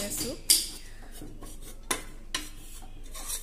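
A spoon scrapes and knocks against a pan as gram flour (besan) is stirred and dry-roasted. The sounds are quiet, with a few sharp metallic clinks between softer rasping strokes.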